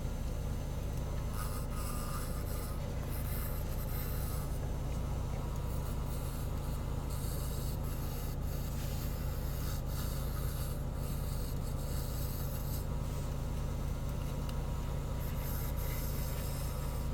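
A wood lathe turns a vase blank held by the tailstock, with a continuous low rumble under steady scraping and rasping from the cutting tool as the profile is shaped, sustained and close throughout.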